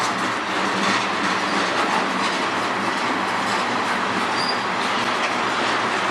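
A slow freight train on the Strathroy Subdivision grinds steadily past at close range, a dense, unbroken roar of rolling wheels and cars with a brief faint squeal partway through.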